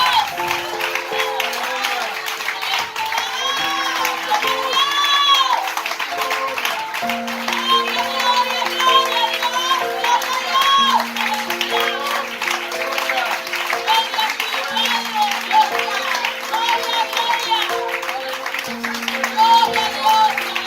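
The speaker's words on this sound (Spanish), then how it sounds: "Démosle un aplauso al Señor un momento, cierre sus ojos." A Spanish-speaking church congregation applauds during worship, with steady clapping spread through the room beneath sustained organ or keyboard chords and voices singing or praying.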